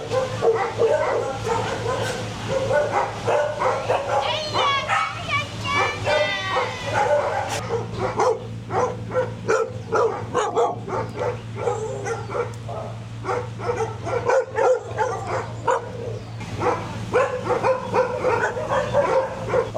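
Dogs at a shelter housing about 153 dogs bark, yip and whimper in repeated bursts over a steady low electrical hum, fairly close and fading in and out.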